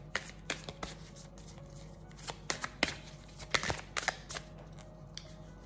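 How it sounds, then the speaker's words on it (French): Cards being handled and drawn from an Inner Stars oracle deck, a series of soft, close papery flicks and slides scattered through the passage with quiet pauses between them. "je prends une carte de l'Inner Stars pour finir aujourd'hui"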